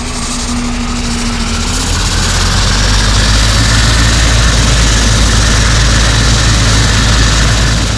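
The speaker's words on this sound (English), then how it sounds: "We're going to turn the engine start and press start on number 1." ATR 42-500 turboprop engine starting in the Prepar3D flight simulator, a loud steady roar and rumble that builds and holds, with a low tone fading early and continuous vibration, no talk.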